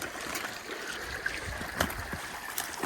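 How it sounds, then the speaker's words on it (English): A backcountry mountain creek swollen with snowmelt rushes and splashes steadily, a close, continuous broadband wash of water with no voices. "Creek is running pretty dang good."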